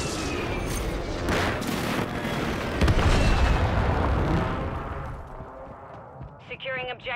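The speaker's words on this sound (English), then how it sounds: "Airstrike near your location." Airstrike explosions rumble through a Call of Duty Modern Warfare 3 multiplayer match, a dense roll of deep booms swelling in the middle and fading toward the end, with game voice announcements over the top.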